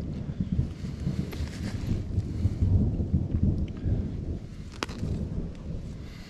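A thunderstorm rolls outdoors with deep, rumbling thunder over steady rain and gusts of wind buffeting the microphone, plus a sharp crack partway through.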